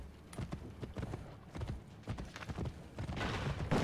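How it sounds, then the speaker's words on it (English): Horse hooves clip-clop at a steady galloping rhythm in Assassin's Creed: Brotherhood, loud and close over a busy game mix with rumbling booms suggesting cannon fire. "Faster to travel by horse."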